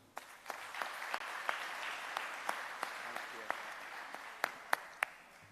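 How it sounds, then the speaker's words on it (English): A conference audience applauds steadily, a dense wash of clapping with a few sharper nearby claps standing out toward the end. "Please, a big round of applause"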